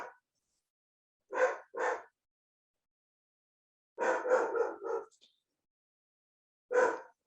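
A dog barks in short, sharp bursts: two quick yaps, then a tighter cluster of four or five, then one more after a pause, with silence between groups and no talk.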